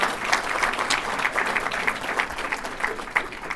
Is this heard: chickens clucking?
no